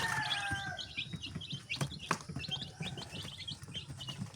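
Chickens clucking and chirping at feeding time, a busy flock of overlapping calls with scattered clatter close by, fairly faint overall and with no talking.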